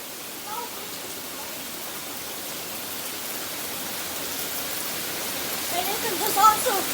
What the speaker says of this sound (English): Now we're actually getting hail this time.